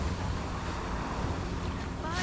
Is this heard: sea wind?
yes